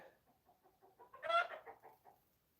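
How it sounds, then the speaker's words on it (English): Chickens cluck close by in a short run of soft clucks that rise to a louder, excited squawking burst mid-way before settling back to quieter clucks, with no talking. "Don't mind the chickens. That's what chickens do."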